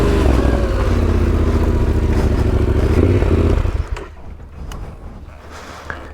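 Adventure motorcycle engine idling loud and close with a steady throb, then dropping off sharply as the clutch is let out during a hillside turnaround, leaving faint rumble and clatter.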